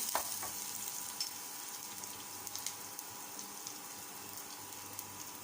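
Garlic frying in a pan for pad see ew gives a soft, steady sizzle with faint crackles and small pops scattered throughout, quiet and close, with no talking.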